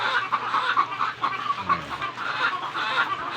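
Chickens cluck steadily and fairly loudly at feeding time on a small egg farm, a busy overlapping chorus that carries on without pause through the whole stretch.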